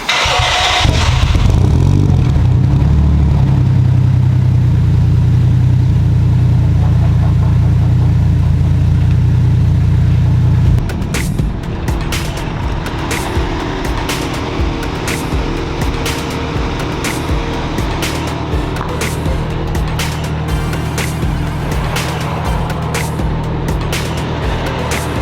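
Cars are started and driven out of a home garage: a loud engine runs hard and revs for about ten seconds, then drops to a quieter idle with scattered clicks and knocks as the vehicles move.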